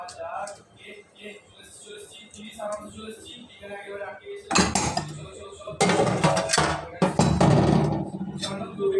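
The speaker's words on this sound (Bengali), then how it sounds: "একটা ঢাকনা দিয়ে দমে রাখবো।" A metal lid set down on a pot of biryani, with bright clanks and scraping clatter of cookware arriving partway through, loud and close, over a speaking voice heard at the start.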